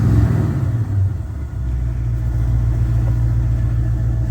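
A car engine, just started on a cold morning after battery trouble, settles into a steady low idle rumble, loud and close, with no talk over it.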